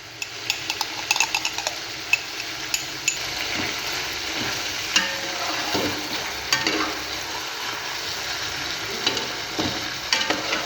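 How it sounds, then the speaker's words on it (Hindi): Chicken frying in a pan with ginger garlic paste for a traditional D.I. Khan chicken sobat, giving a steady close sizzle broken by frequent scraping and stirring clinks of a utensil against the pan, with no talking. "अदरक लहसुन के पेस्ट को भी हमने अच्छे से भून लिया है।"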